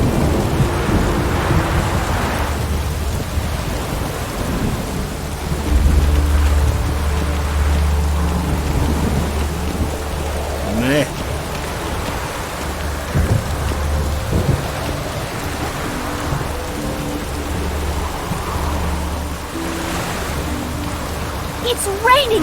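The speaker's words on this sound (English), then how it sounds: "It's raining buckets!" Heavy rain in a thunderstorm, a steady downpour hiss with rumbling thunder rolling through, loud and close, with a person speaking now and then.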